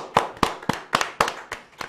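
A few hands clap in a slow, steady rhythm to welcome a guest to an interview, about eight distinct close claps spaced roughly a quarter second apart.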